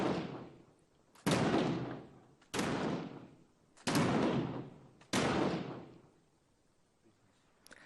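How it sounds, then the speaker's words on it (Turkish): An old smoothbore musket and a rifled gun fired outdoors, heard as four loud, sharp single reports spaced about a second apart, each trailing into a long echo. "Şimdi eski tip tüfekle yivli tüfeği karşılaştırmanın zamanı geldi."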